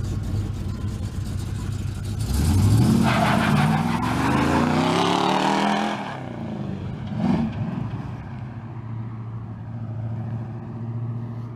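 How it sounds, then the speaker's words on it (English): A 1955 Chevy with a 354 engine revs hard during a burnout, a loud rising engine roar climbing in pitch for several seconds, then dropping back to a steady, rumbling idle. "It does burnouts."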